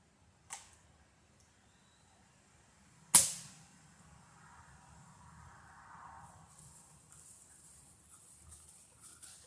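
Airgun fired through a Ruger suppressor with a pellet striking the ground outdoors, a single sharp crack close by, preceded by a soft click and followed by faint background noise.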